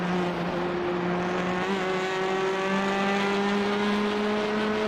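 Race car engine in a TCR/F3 racing simulator at Oulton Park, droning steadily at high revs throughout with a constant, loud tone and slowly rising pitch, no voices over it.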